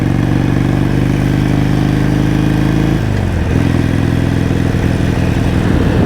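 A motorcycle engine runs roughly and sputters in cold weather, loud and close throughout, its steady rumble shifting and stumbling partway through.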